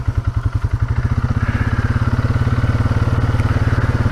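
An ATV engine chugs close and loud while riding through a creek, with a rapid, steady low throb that quickens slightly as the machine pulls forward.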